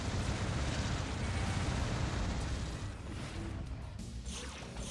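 Fusion cannon fire in the game Descent 2: a dense, sustained roaring blast close up, with a heavy rumbling wash that thins slightly near the end.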